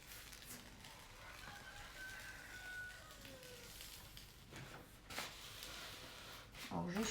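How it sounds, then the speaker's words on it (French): A rooster crows in the background, a faint, drawn-out call rising in the middle of the clip, while someone speaks French over it during a gift unboxing indoors. "je suis accompagnée par le coq"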